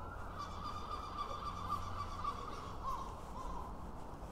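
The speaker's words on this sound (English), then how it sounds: "Seagulls, sounds like we're in Blackpool." Gulls cry steadily in the distance in Longton, Stoke-on-Trent, their calls continuous beneath a constant outdoor street noise.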